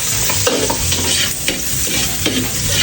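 Leftover cooked rice stir-fried into Filipino sinangag, with a loud, continuous sizzle and repeated scraping strokes of a spatula against the pan, close up, and no voices.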